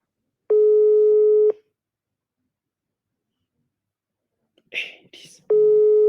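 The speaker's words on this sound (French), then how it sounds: "décroche ton téléphone" Telephone ringback tone heard while calling someone, two identical steady beeps about a second long separated by a silent gap, close and clear, with a brief whisper just before the second beep.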